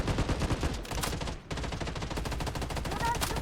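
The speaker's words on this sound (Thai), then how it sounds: "ใครมันยิงลั่นๆ" Rapid bursts of automatic gunfire in the Blood Strike shooter game during a Halloween party mode, loud and nearly continuous, with a brief gap near the middle and no clear talking.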